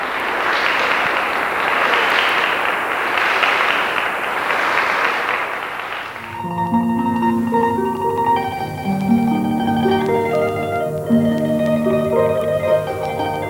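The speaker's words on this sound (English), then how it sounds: "The applause for Mariko signaled the end of the semifinal stage of competition." Audience applause for harpist Mariko at the semifinal of the 1989 USA International Harp Competition: a dense, loud ovation for about six seconds that gives way to plucked harp music.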